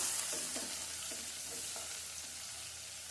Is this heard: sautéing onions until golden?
yes